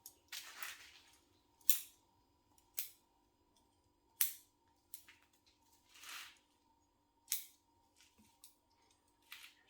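Pruning shears snipping thin branches on a mallee bonsai, a sequence of sharp, close, isolated clicks and cuts spaced irregularly over quiet background.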